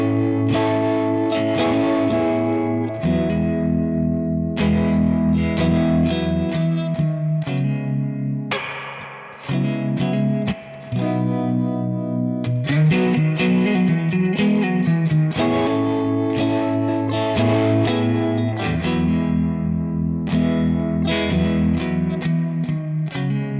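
An electric guitar plays through a Crazy Tube Circuits White Whale V2 pedal, producing a loud, sustained, distorted sound with lush chorus and echo across a continuous riff, with no talk.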